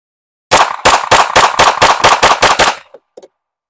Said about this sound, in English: we're going to go ahead and shoot 10 shots quickly and see how it feels